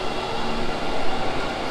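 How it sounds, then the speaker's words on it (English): Broadband rumble of a train at a station in Japan, a steady close hum with a faint tonal whine, carrying no talk. "just waiting on the train at Tsurashi"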